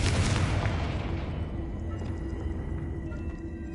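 Spells are cast in a Hogwarts video game, with a sharp blast opening into rumbling crackle and booming that fades to a lingering hum.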